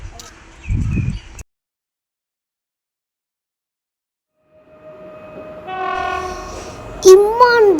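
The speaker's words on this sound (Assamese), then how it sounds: "ইমান ডাঙৰ ট্ৰেইন ৰাজধানী এক্সপ্ৰেছ ইমান স্পীডত আহিছে" A Rajdhani Express train approaching and blowing its horn: a short rumble, then a gap of near silence, after which a rising rumble and a loud sustained horn blast come in close at the end.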